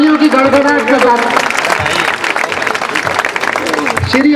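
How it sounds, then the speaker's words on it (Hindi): Applause from a crowd at a public political meeting in Surat, a steady wash of clapping throughout, loud and close, with a voice speaking over it at the start. "सभी तालियों के साथ, तालियों की गड़गड़ाहट के साथ"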